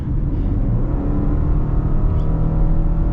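A 2025 Subaru Outback Limited with a CVT transmission accelerates, producing a loud, steady engine drone and road rumble heard from inside the cabin, even and unbroken without gear-shift steps.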